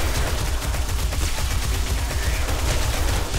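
A submachine-gun turret fires nonstop in the survival game 7 Days to Die during a horde night, dense rapid gunshots forming a loud unbroken rattle with no talking.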